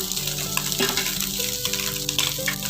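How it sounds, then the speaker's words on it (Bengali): Onion and fish frying together in a pan, a steady close sizzle with soft crackle and occasional stirring clinks, with no talking. "দেখুন এখানে পেঁয়াজটা ভাজতে নিয়েছি তারপর আমি এখানে মাছটা দিয়ে দেব মাছটা আমি দিয়ে দিলাম"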